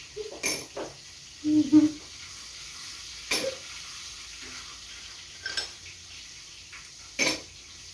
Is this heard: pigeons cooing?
no